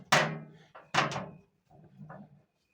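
Food dehydrator with seven trays being loaded with berries and closed, producing a few sharp plastic clacks and thunks followed by a softer rattle, close and quiet with no speech.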